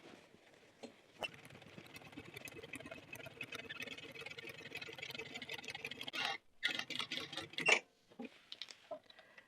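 Sewing machine running a straight stitch along a handbag seam, a steady whirring chatter for several seconds, a brief pause, then a few short bursts near the end.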